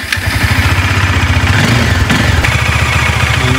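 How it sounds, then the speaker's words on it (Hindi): A Bajaj Dominar motorcycle engine idles loudly and steadily up close after starting, its low throbbing exhaust continuous throughout, a few slight shifts in tone but no strong revving. "थोड़ी देर स्टार्ट कर लें, जो साइलेंसर में थोड़ा बहुत इंजन ऑयल गिरा वो जल जाएगा"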